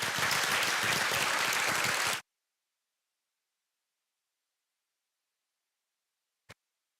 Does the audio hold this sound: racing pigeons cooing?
no